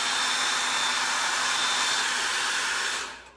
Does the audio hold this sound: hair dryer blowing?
yes